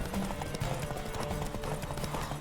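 Rapid rhythmic clip-clop of a horse galloping in a video game, hoofbeats steady and close throughout, with a faint voice underneath.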